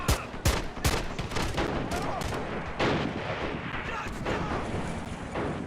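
Video game artillery cannons fire in sharp, heavy booms at the start, followed by a dense rumble of battle, with a voice speaking over it.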